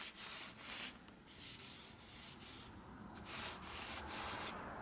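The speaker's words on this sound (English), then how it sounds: "I'm gonna see if you can hear the texture difference between these sections." Quiet, gritty rubbing over paper prepared with gesso and matte gel medium, in a steady run of repeated close strokes with no voices.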